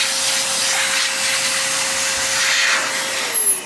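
Loud, continuous rushing hiss of an XPower Airrow Pro A2 electric air blower blasting dust off a CPU cooler, with a steady motor whine that drops in pitch as it winds down at the end.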